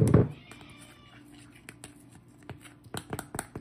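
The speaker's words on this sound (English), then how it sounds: "I know, Kitty, you want dinner." A house cat meows for dinner in a kitchen, one loud close cry at the start followed by quieter clatter and light taps.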